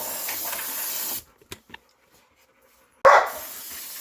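Dogs bark outdoors during a budget front-brake repair on a 1962 Ford Falcon: a steady hissing spray first, then a pause with faint knocks, then one loud, close bark burst near the end.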